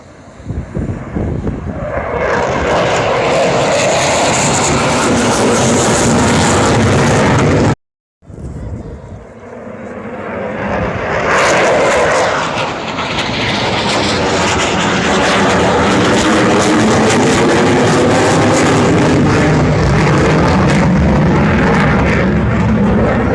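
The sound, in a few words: Eurofighter jet flying at Farnborough Airshow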